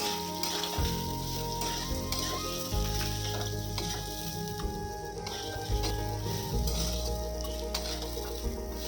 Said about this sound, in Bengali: গ্যাসটা জোর দিয়ে এবার এটাকে আমি ভালো করে ভেজে নেব।